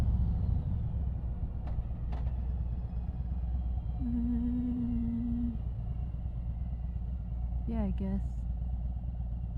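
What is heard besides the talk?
Harley-Davidson Road Glide motorcycle riding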